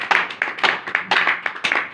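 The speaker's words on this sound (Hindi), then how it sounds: "सिस्टर मिशेल के लिए जोरदार ताली" Scattered hand claps for Sister Michelle from a small audience at a talk, about eight sharp claps in under two seconds in an uneven rhythm, fairly close.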